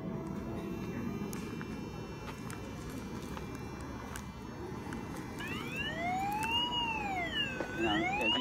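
A Vivax Metrotech VM-560 locator receiver sweeps up and down in pitch in its tone outdoors near a tree, rising and falling in the later seconds over a steady background hiss.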